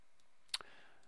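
A single sharp computer mouse click, followed almost at once by a fainter second tick, stands out against near silence while someone works in After Effects.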